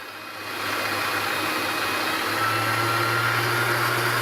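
An electric mixer whipping eggs for a lemon meringue tart: a steady mechanical whir that rises in speed after a moment and holds a constant, fairly loud hum, with no voices.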